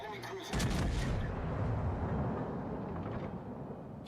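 Battleship main-gun salvo in the naval game World of Warships, a sudden heavy boom followed by a sustained rumbling roar of gunfire and explosions that holds loud and close for several seconds.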